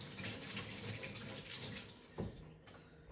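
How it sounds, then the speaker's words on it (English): Water runs steadily from a sink tap for hand washing in a home kitchen, a continuous broadband hiss throughout with a brief clatter near the end, no talking. "I'm gonna step over here to the sink. Wash our hands nice and clean before we touch all of the food items"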